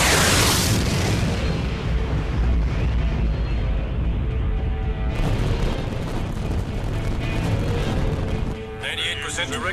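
Heavy weapons fire and explosions hammer against an energy barrier in an animated space battle, a continuous loud roar of blasts that briefly swells near the end, with voices speaking over it.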